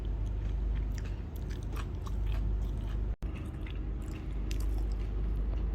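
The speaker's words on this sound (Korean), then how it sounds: "튀김이니까 좀 질릴 수 있는데 이 소스에 찍어 먹으니까 진짜 괜찮아" Close, wet chewing and crunching of fried street food dipped in sauce, eaten in Myanmar, going on steadily with soft squishy bites and no talk.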